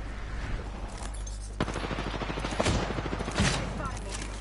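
Rapid bursts of automatic gunfire in the battle royale game Apex Legends, loud close shots in a fast rhythm with sharper individual cracks mixed in and a voice speaking over parts of the firing.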